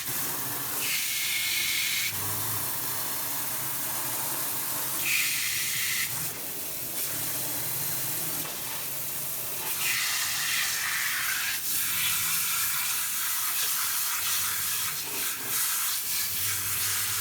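A water sprayer rinses shampoo and conditioner from a cat during grooming: a steady, close hiss of spray running for many seconds, swelling and easing in short pulses as the nozzle moves, with no talking.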